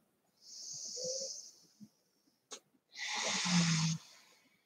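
Slow breathing during an evening yoga session: a soft hissing inhale, a brief pause, then a longer, fuller exhale with a faint throaty rasp, close and quiet.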